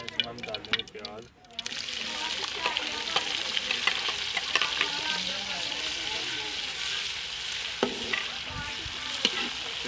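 Onions dropped into hot ghee for potta kaleji set off a loud, steady sizzle that runs on after a short quiet start, with stirring clatter and a voice talking over it.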